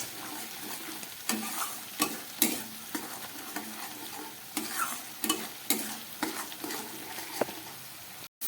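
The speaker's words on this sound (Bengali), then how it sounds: "মশলাটা প্রায় ছ সাত মিনিট ধরে একদম গ্যাস কম করে কষালাম আদা রসুন পেঁয়াজ লঙ্কা" Spice paste of ginger, garlic, onion and chili cooking in a pan on low heat for a fish curry, with a soft sizzle under repeated sharp scrapes and knocks of a spoon stirring, up close.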